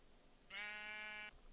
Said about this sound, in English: Sheep, don't eat the grass! What's wrong with you, sheep?